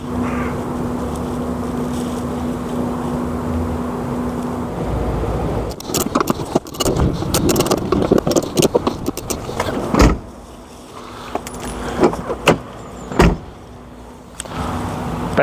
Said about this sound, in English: Just need to adjust the striker plate on that door.